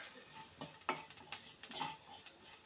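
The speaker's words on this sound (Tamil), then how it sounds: "நல்லா கலந்து விட்டுக்கோங்க." Onions with turmeric fry in a pan while a utensil stirs and scrapes them, making soft, irregular clinks and scrapes over a faint sizzle, quiet and close, with no talking.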